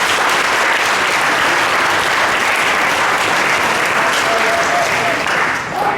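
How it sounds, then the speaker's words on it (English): A banquet audience at a high school football banquet gives a loud, sustained round of applause, dense clapping filling the room steadily before easing slightly at the end. "Let's give them one more big round of applause."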